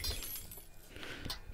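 A glass bottle shatters in the Surgeon Simulator video game, a short crash with bright tinkling at the start and a second clink near the end, moderately loud with no talk over it.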